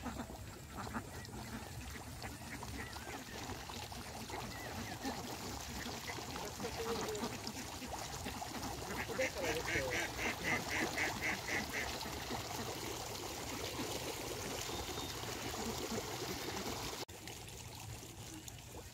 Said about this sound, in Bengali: 900 হাঁস আছে এখানে